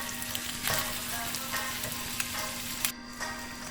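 Sausage fries in oil in a pan with a continuous close, crackling sizzle and scattered brief pops and clicks of stirring.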